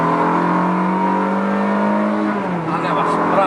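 Ferrari 360 Modena engine droning steadily under acceleration after a downshift, its pitch holding level and then dipping near the end, with talk over it.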